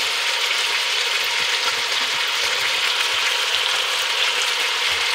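Onion frying with bacon bits in a pan, a steady bright hiss of sizzling fat with faint occasional scrapes, constant and fairly loud throughout.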